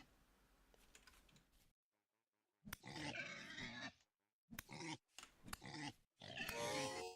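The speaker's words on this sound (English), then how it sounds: "Holy shit. Pigs." Pigs grunt in the survival game Vintage Story, bursts of loud close grunting and snorting broken by short silences, with a quieter rustling stretch at the start.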